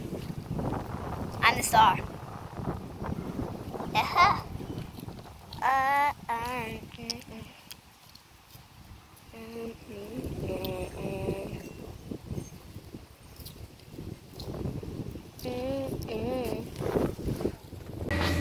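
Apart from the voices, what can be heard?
wind blowing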